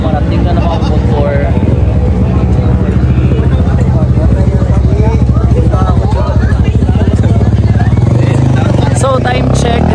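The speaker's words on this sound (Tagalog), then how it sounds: "Ayan dito sa gilid ng kalsada. Dumarating na ng mga motor." Motorcycles passing along a roadside in Cebu, a loud continuous engine drone and rumble through the whole clip, mixed with voices in the background.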